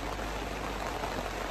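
Rain falling on a hot tent on a wet morning while camping, a dense, steady hiss of drops close by on the fabric, continuous and even, with no voices.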